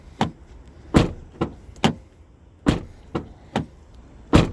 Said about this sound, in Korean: 이게 포드 익스플로러 닫을 때의 소리고요.